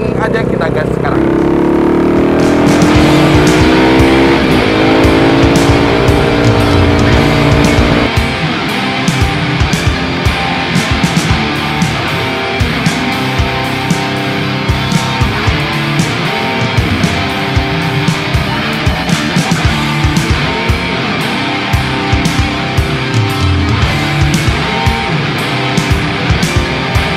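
A custom tracker motorcycle built on a KTM Duke 250 accelerates, its engine note rising for several seconds before settling into a continuous riding drone with wind buffeting, and a voice is heard at times.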